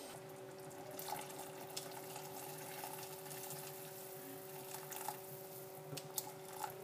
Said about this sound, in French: je complète avec de l'eau bouillante